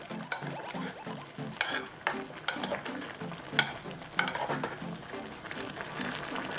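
Zucchini and salted shrimp simmering in a pot are stirred in a steady scraping, clattering rhythm, with repeated utensil knocks against the pot over a soft bubbling background, close up and without talk.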